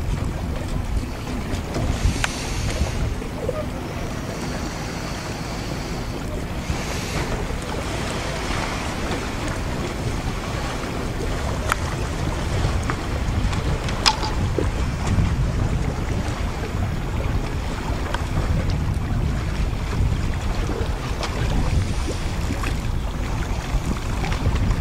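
A sailboat out on open water during a sailing training session off Portorož, with steady wind buffeting the microphone and the wash of waves against the hull, a continuous loud rush throughout with no talking.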